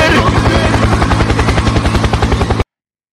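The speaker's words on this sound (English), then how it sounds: "Helicopter." Rapid, steady thump of helicopter rotor blades, loud and close, a chopping pulse running continuously before cutting off abruptly.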